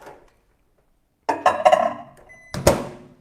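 Microwave oven buttons are pressed to set half power, giving several quick bright beeps and clicks in two short bursts after a moment of silence.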